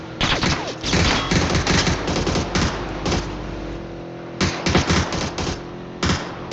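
Uzi fire in the video game PUBG comes in rapid, loud bursts of automatic shots broken by short gaps, with several separate sprays across the span.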